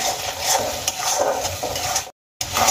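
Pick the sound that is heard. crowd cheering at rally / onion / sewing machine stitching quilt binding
onion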